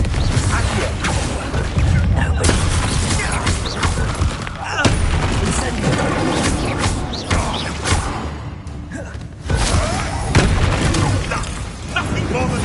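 Confringo blasting-spell explosions in Hogwarts Legacy, dense bursts of booming blasts and crashing impacts layered with mechanical clatter, loud and continuous with short gaps, mixed with game voices.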